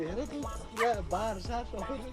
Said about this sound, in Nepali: small dog is coming here right now.